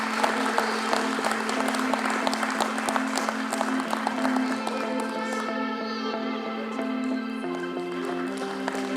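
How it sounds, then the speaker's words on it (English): Audience applause for a rowing panel at a live event in Washington DC, a dense steady clapping that fills the room, with a sustained musical tone underneath and a faint voice briefly above it. "And round of applause for the panel here."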